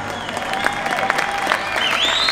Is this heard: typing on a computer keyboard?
no